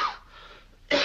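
A Frankenstein film excerpt: a single harsh cough bursts out at the start, followed by a short hush, then a second abrupt, forceful cough.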